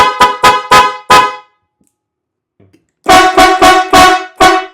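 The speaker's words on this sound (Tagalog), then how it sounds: "So, stock horn." A stock factory car horn honks in a quick burst of four short blasts, then after a pause of silence another rapid series of five loud honks.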